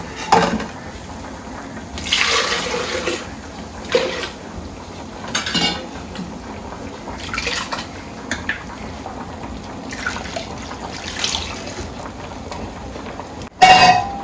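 Ground coconut masala and tamarind water are poured into a fish curry pot in a home kitchen, with liquid splashes, pot clatters and spoon scrapes in irregular bursts, close and moderately loud, no talk.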